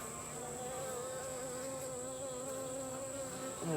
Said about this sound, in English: There's a bee right in front of my mouth.